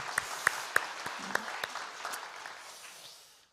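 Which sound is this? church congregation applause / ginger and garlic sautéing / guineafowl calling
church congregation applause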